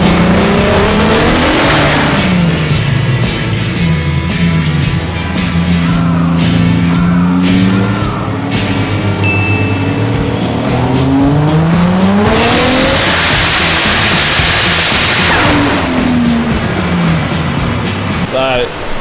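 A 450-horsepower drift car engine revs hard on a dyno, its rising and falling whine sweeping up and down in repeated loud pulls with some tire squeal, while people talk over it.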